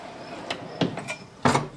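A few short sliding and knocking sounds of a heavy metal drawer on a U.S. General Pro tool chest, ending with a louder clunk as it shuts, close by.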